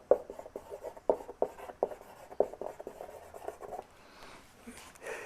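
Marker or chalk writing on a board during a calculus lecture, a series of short scratchy strokes in irregular bursts, close and moderately loud, with no talking over it.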